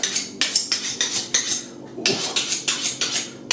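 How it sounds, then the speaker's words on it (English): A blunt kitchen knife chopping an onion on a board, giving a steady run of sharp, near, loud knocks at an even rhythm with a brief pause in the middle, no talking. "I'm going to cut through an onion."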